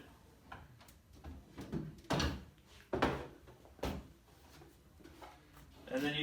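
A drawer is pushed up from the back and pulled off its slides, giving a few clunks and scraping thuds spaced a second or so apart, fairly close and moderately quiet.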